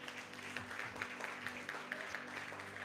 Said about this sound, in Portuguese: E você aplaude a Deus.